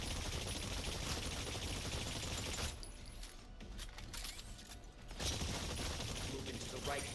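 Rapid, dense gunfire at targets in the Exoprimal video game, a loud continuous barrage that briefly thins out midway before resuming at full intensity.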